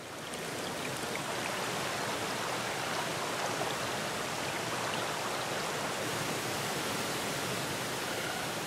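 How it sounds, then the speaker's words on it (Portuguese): Waterfalls and streams running down the Waterberg mountains make a steady, even rushing hiss that holds constant throughout, soft and broad with no voices over it. "À medida que correm morro abaixo, as cachoeiras e córregos se unem, criando rios que esculpem seu caminho através da paisagem."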